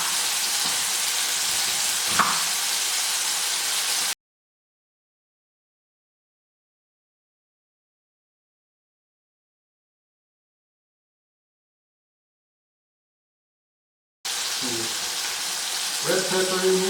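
Salisbury steak sizzles in a hot pan with a steady frying hiss, broken by a long stretch of silence before the sizzle returns.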